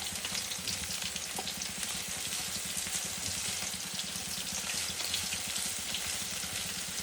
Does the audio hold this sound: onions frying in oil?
yes